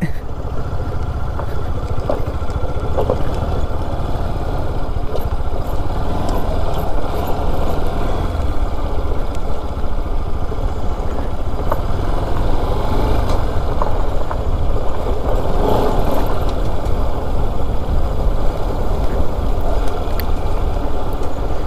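A motorcycle engine-braking downhill on a slippery off-road track runs steadily at low revs, a continuous rumbling drone, close and fairly loud, with occasional mechanical rattles.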